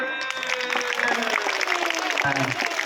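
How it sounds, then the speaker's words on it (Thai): Students at a school event applaud four student council candidates with steady, close crowd clapping, while sustained musical or vocal tones sound underneath. "เสียงปรบมือต้อนรับผู้สมัครทั้งสี่คนครับปรบมือ"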